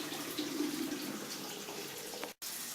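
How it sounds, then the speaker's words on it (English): Cooked pasta water pours into a sieve in a steady splashing rush, close and fairly soft, continuous with a brief gap near the end. "Now what you do, you drain the pasta"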